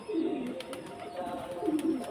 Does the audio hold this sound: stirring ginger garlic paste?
no